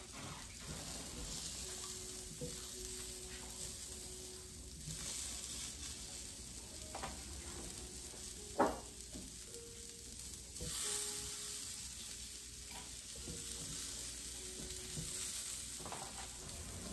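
Steady sizzling of asparagus and peppers cooking on a hot grill, a continuous crackling hiss with a brief clatter partway through.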